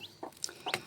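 A hen clucks to her chicks in the countryside, a few short close calls with thin peeps from the chicks mixed in, no speech.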